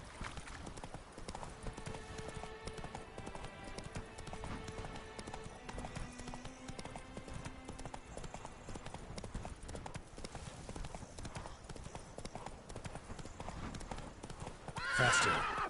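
Roach, a horse in The Witcher 3: Wild Hunt – Blood and Wine, gallops with a steady rapid clip-clop of hooves and an occasional whinny, set against continuous game music with a louder burst near the end.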